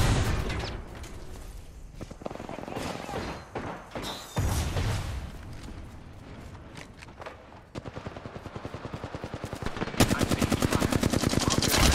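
Video-game gunfire comes in dense rapid automatic bursts and sharp single shots, close and loud, with a steady fast volley over the last few seconds.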